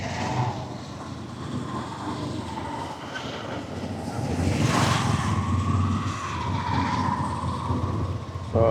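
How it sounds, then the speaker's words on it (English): Night street traffic in Cambodia, a dense, continuous roar of passing cars and engines that swells and fades as vehicles go by, with road noise and a brief voice underneath. "So, a lot of traffic tonight, actually."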